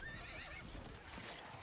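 A horse in Diablo IV whinnies faintly, a short high neigh with light clip-clop hooves underneath, quiet and brief in the game's background.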